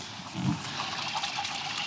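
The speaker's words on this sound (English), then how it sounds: "The main noise I can hear is the water being fed back into the top of the tub." Chilled water from an ice bath chiller pours back into the top of the tub, a steady close trickling and splashing that continues evenly without any voices.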